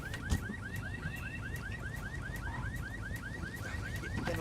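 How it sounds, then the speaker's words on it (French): A car alarm in the shooter game Ghost Recon Wildlands, a steady repeating rise-and-fall electronic whoop that cycles rapidly and evenly at moderate volume over low background noise, with no talking. "Comment l'alarme de sa voiture elle peut sonner alors qu'il était déjà dedans"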